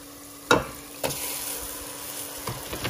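Raw chicken pieces salted and dropped into a hot pan for chicken aloo, frying with a low steady sizzle broken by a few sharp clatters and stirring knocks, close and without talk.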